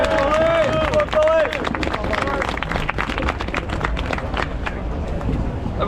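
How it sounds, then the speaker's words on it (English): Crowd at a small loyalist parade to Belfast City Hall gates claps and cheers for Billy, a dense, steady wash of applause and chatter from close by, with a brief whistle-like tone near the start. "Folks, big round of applause there for Billy."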